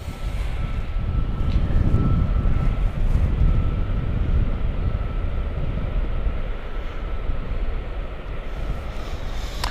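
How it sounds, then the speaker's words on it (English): A 23-year-old British Airways Boeing 777 takes off at Gatwick, its engines giving a broad, rumbling roar that stays loud and steady, with wind buffeting the microphone. "777 British Airways taking off, heading off to Villefort"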